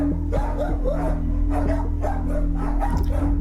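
A dog seized in a UK police raid on dangerous dogs gives repeated short barks and yips over a steady low mechanical hum, with no one talking.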